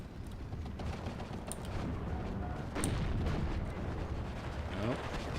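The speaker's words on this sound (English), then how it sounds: "Yamin gets an off-map charge, and that looks like a proper barrage, down deep enough onto the artillery" An off-map artillery barrage in the wartime strategy game Steel Division 2 rumbles as a low, continuous roll of distant blasts and booms, with a couple of sharper cracks over the steady din.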